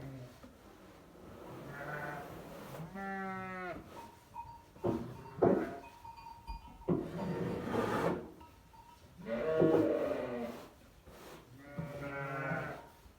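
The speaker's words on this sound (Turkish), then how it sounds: "Şimdi koyunlar çıkıyor." Sheep bleat several times as the flock is let out on a snowy day in Central Anatolia, the calls loud and near, separated by short gaps with scattered thumps and rustles.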